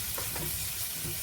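Chickpeas, rajma, black peas and red chickpeas lightly sautéed in a pan, giving a soft steady frying hiss with faint stirring scrapes, close and continuous.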